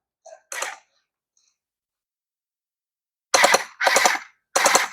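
Gel blaster toy guns fire gel balls in short, sharp bursts: two brief shots near the start, a long quiet gap, then three loud, close clusters of rapid pops toward the end.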